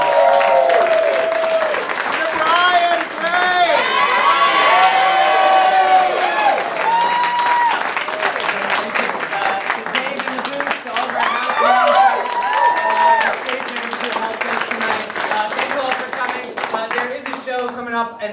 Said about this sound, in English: One more round of applause for these amazing people.